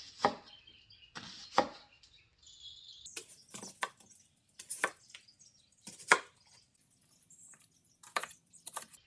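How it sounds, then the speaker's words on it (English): A knife chopping onion and garlic on a board, a series of crisp, irregular taps close by, some in quick bursts, with quiet gaps between. "Let's chop this up."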